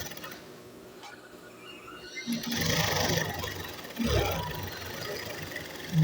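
A sewing machine stitches a seam on a ladies' trouser, its motor whirring up in a couple of short runs with a burst near the end, fairly close, after a quieter stretch of handling noise.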